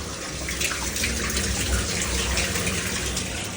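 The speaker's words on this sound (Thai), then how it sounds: "กดล้างเครื่องนะครับ เครื่องเป็นทำงานเองอัตโนมัติ ล้างภายในท่อภายในกระบอก ภายในท่อส่งนม" Steady, loud rush of water runs through the pipes and milk lines of an automatic milking machine on its wash cycle in an Israeli buffalo farm milking parlour, a continuous gushing flow with no pauses.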